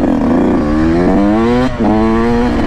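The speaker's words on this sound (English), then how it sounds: "I'm on his Ronnie Mac freaking edition YZ" A Yamaha YZ dirt bike in Ronnie Mac edition is ridden at a lot, its engine revving loud and close with rising and falling pitch, breaking for a moment before it climbs again.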